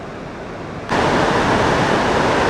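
Great Falls on the Potomac River roars as a dense, steady wash of rushing water, rising abruptly to a loud constant rumble partway through and holding there, with no voices.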